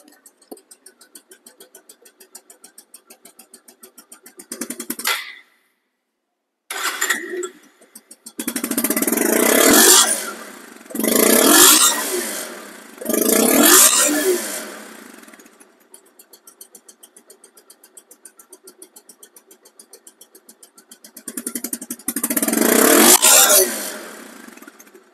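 A Bajaj Pulsar DD ABS motorcycle, a second-hand bike in showroom condition, starts up and idles with a steady close putter, then revs in several loud bursts of rising and falling roar, with a short silent gap early on.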